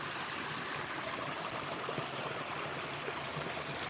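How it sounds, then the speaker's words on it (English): A small new waterfall on a forest creek beside a wilderness shelter build, tumbling over piled-up rock with a steady, even rush of splashing water close by, alone with no voices. "we got a brand new waterfall right beside the build."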